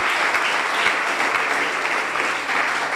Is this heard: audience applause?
yes